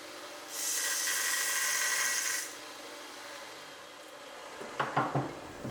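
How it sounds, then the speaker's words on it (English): A knife blade's profile being ground on a power grinder gives a steady, loud abrasive hiss for about two seconds, then a quieter hum, ending in a few sharp scraping bursts. "I'm going to get this profile ground in, and then we'll check from there"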